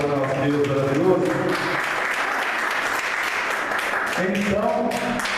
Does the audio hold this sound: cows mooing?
no